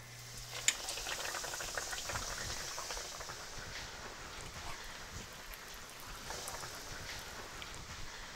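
A sushi galette fries in hot oil in a pan, giving a quiet, even bubbling crackle that holds steady throughout, with one small tap early on.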